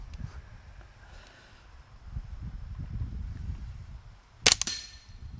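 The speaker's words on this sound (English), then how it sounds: "You just pull the trigger again." Suppressed AR22 rifle shots fired at night, heard as a sharp close crack followed by a second quieter report in quick succession, standing out over a low rumbling wind background.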